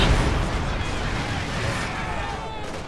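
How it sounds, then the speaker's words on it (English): An incendiary artillery barrage lands in a Company of Heroes 2 battle, dense crackling bursts and booming impacts under a fiery roar, with a commentator's voice over the top. "Followed up with an incendiary artillery barrage."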